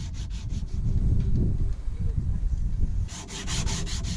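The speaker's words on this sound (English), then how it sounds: "Now it's time for sanding and final shaping." Rough rhythmic rubbing and scraping of sanding against a structural PET foam instrument panel on a boat, close and persistent, with a quick series of sharp scratchy strokes near the end.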